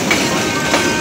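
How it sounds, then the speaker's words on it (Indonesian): Steady broadband rumble and rush of the Argo Bromo Anggrek passenger train rolling straight through Manggarai station nearby, loud and continuous, with no voices. "Kereta Api Argo Broma Anggrek langsung tujuan akhir Gambir"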